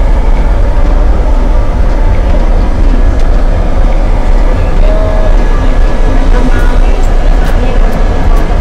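A long passenger train in Porto, Portugal rumbles past heading into a tunnel, a loud, continuous close roar with steady low rumble and faint metallic clicks, while voices of a family talk underneath.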